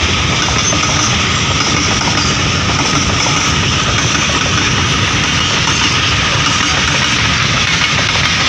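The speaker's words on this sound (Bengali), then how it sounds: "এই যে দেখো ব্রডগেজের ট্রেন ছুটছে" A broad gauge train runs near the railway tunnel at Chandranathpur, Silchar, with a loud, close, continuous rumble and rattle for the whole stretch.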